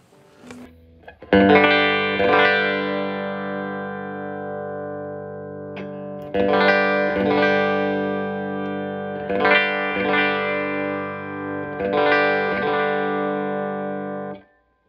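An electric guitar with the middle and bridge pickups blended plays a repeated chord phrase, four strummed passages with sustained, ringing tone between pauses; no voices.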